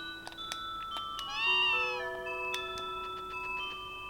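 A cat meows in the video game Breath of Fire IV, one drawn-out wavering mew in the middle, set against steady game music tones and occasional clicks.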